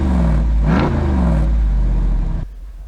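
A 2024 Jeep Wrangler Rubicon 392 Final Edition's V8 exhaust burbles loudly and close, a deep rumble with a brief rising rev before settling and cutting off near the end.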